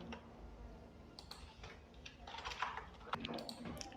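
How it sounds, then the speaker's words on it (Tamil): Someone types on a computer keyboard in Excel during a basic computer lab lesson, producing quick, close clicking keystrokes with a few louder taps over a soft room hum. "ஸோ இப்போ இந்த நேமை நம்ம டைப் பண்ணலாம்."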